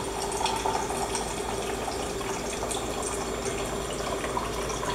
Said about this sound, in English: put your finger over the destructor and it'll fill your cup